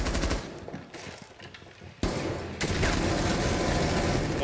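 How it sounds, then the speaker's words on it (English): Gunfire in the video game Rainbow Six Siege, with scattered shots at first, then sustained rapid automatic bursts from several guns that continue dense and loud to the end. "There's three people shooting at me, brother."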